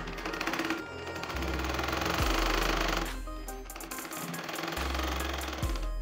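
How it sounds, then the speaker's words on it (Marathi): A sewing machine runs in two bursts while stitching the edge hem of a blouse, giving a rapid, loud mechanical rattle that speeds up and then stops. "आता आपण ही किनारी टीप मारून घेऊया।"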